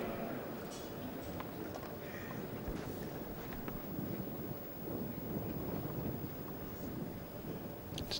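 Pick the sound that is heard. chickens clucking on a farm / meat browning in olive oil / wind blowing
wind blowing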